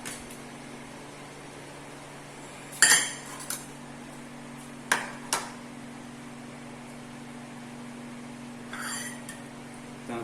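Metal tongs clink against a hot pan holding a date chocolate sticky cake, a few sharp separate clinks over a low steady kitchen hum.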